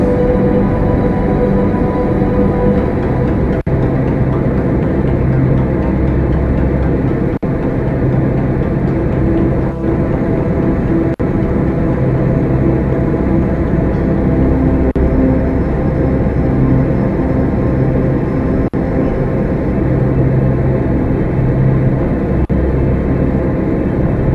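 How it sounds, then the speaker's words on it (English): A rocket engine burns in the Kerbal Space Program video game, giving a loud, continuous, unbroken roar that holds steady for the whole stretch with no voices over it. "engine's burning."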